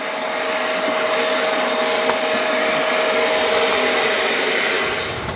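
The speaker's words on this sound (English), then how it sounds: "after a few hours of messing around with the wet vac" Wet vac cleaning the interior of an abandoned Chevrolet Corvette ZR1, a loud, close, continuous suction roar that holds steady for the whole stretch.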